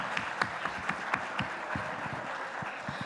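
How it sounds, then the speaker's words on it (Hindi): A live audience at a yoga talk breaks into applause, a dense patter of many hands with a few sharper individual claps standing out, moderately loud and continuous for about three seconds. "जोरदार तालियां।"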